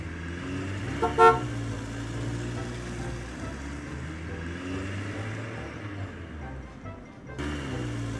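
A toy truck horn gives a short bright honk, then a quieter engine-like hum runs under faint background noise.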